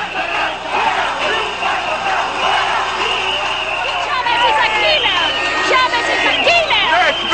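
A large opposition march crowd heads toward Miraflores presidential palace in Caracas, a dense hubbub of many voices with cheers and whoops rising, under someone speaking loudly over the throng.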